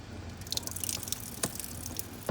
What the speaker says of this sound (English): A little leftover water coming out.